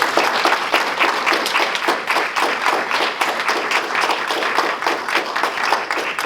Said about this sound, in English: How about one more round of applause for all our award recipients?